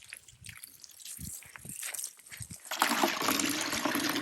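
Water overflows from a goat's water container and trickles and splashes, at first in faint scattered drips, then in a stronger steady pour. The sound is close and there is no speech.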